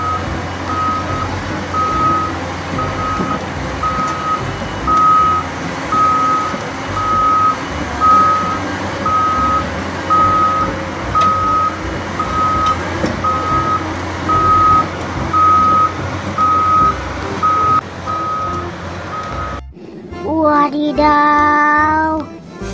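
A toy excavator truck gives steady, evenly spaced reversing beeps for about twenty seconds over a busy background hum, then the beeping stops and a different tonal sound takes over.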